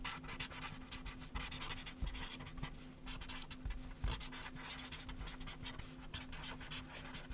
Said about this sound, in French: je vais juste faire semblant d'écrire un poème